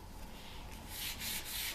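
Worn 240-grit sandpaper rubs steadily across a varnished wooden stool, a close, continuous scratchy swish that swells slightly louder in the second half.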